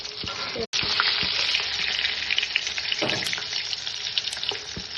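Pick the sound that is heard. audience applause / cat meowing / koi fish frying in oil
koi fish frying in oil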